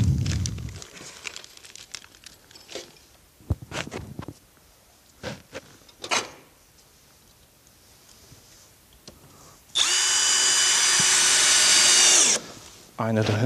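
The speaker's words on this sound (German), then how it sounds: "Das Ganze wird nochmal fixiert, rechts und links mit je zwei Schrauben." A power screwdriver drives screws to fix a roof window during a roof renovation, one loud, steady whirring burst of about three seconds near the end, after quieter rustling, crinkling and handling sounds with some talk.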